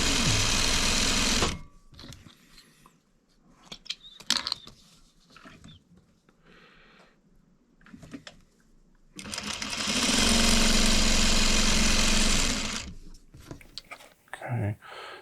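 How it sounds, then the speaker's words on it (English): A sewing machine stitches half-square-triangle quilt blocks from 3-inch squares placed right sides together, running in two steady, fairly loud bursts separated by quieter handling sounds of fabric. "And let's get sewing our 2 at a time half square triangles."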